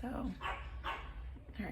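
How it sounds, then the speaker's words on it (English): A dog barks repeatedly outside a door, sharp barks recurring every half second or so, heard just beyond the room under a person's speech. "you can hear my dog barking outside my door waiting for me"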